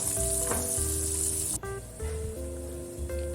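Masala-coated fish pieces fry in coconut oil in a pan over a medium flame, giving a dense, crackling sizzle that runs continuously up close, with a brief dip midway and a few faint clinks, no talking.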